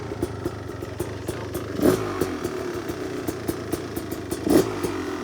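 A 2026 Beta 350 RX two-stroke dirt bike engine idles as it warms up, a steady close mechanical drone with a rattly clatter and two brief swells in the revs.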